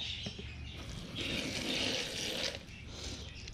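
About 700 ml of water is poured into an E8 pellet fishing bait mix, a close, continuous splashing rush that swells in the middle and then eases slightly.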